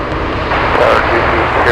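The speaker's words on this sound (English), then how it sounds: "Oh, I'm hearing the Atlas power up." Atlas Air Boeing 747 engines spooling up for takeoff at Anchorage airport: a steady, broad roar that swells slightly as it goes, heard at a distance beneath voices and radio chatter.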